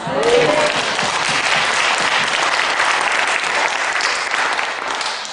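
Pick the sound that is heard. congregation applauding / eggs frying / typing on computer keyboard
congregation applauding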